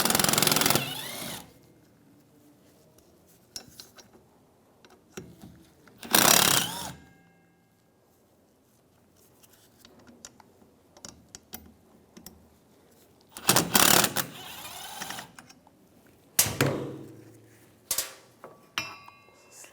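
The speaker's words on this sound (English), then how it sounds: "Take these 3 screws out." Screws being backed out with a T25 socket while removing a cover on a 2007-2014 Cadillac Escalade steering column, with a few short bursts of ratcheting and tool noise separated by quiet stretches, close up.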